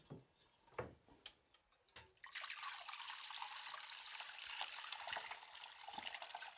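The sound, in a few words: ladling bone broth through a fine sieve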